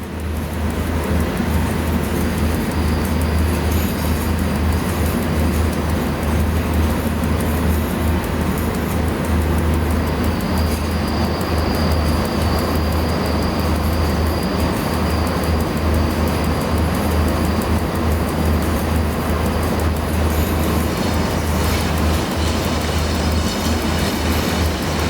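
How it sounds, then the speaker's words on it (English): A long train rumbling past in the SimRail railway simulator game, a loud continuous roar with a steady low drone and a thin high whine partway through. "How long is this blinking train?"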